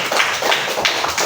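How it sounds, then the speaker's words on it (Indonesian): Classroom applause, a short burst of several distinct claps from a small group, sharp and close, over about a second. "Tepuk tangan untuk semuanya."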